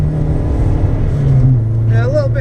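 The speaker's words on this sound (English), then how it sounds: "A little bit of slip under power there coming out that tight corner" A Ford SportKA drives on the Three Sisters circuit on a low-grip day and pulls out of a tight corner under power, its engine a steady close drone with a voice talking over it.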